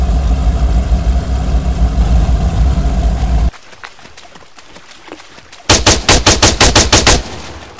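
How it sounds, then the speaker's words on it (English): Underwater gun firing in a pond-building video game: a rapid burst of about eight loud, evenly spaced shots rings out near the end. It follows a heavy, engine-like drone and a quieter, crackling stretch. "shoot underwater with the underwater gun"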